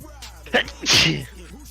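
A single loud sneeze up close, with a short sharp intake of breath just before the explosive burst, then quiet.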